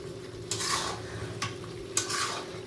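Spices sauté in a pan over a low sizzle, with three distinct bursts of scraping as a spoon stirs them, close and fairly loud, no talking.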